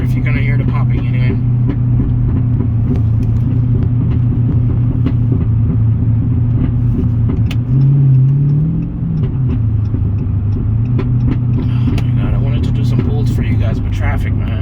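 A 2011 Dodge Charger idles with a steady, loud, deep exhaust rumble that holds throughout, with only faint, scattered ticks that could be light popping.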